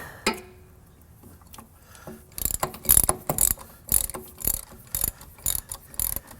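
A ratchet tightens the bolts on a Camaro leaf spring shackle with rapid, close, loud clicking in repeated bursts of strokes, after a few quiet metallic taps at the start.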